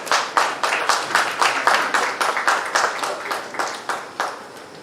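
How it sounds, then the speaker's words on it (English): Audience applause at a South Asian cities summit memento ceremony: sparse, distinct handclaps in a steady rhythm, moderately loud and close, with no talking over them. "A round of applause, ladies and gentlemen."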